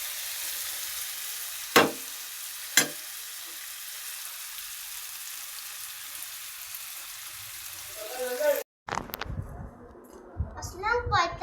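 Pumpkin and shrimp frying in a pan give a soft, steady sizzle with a couple of sharp clinks of stirring, then a cut to voices, a child among them, talking over the cooking.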